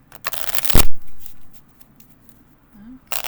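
A quick riffle of cards being shuffled close up, a short papery flutter, followed by quiet and another brief card rustle at the end.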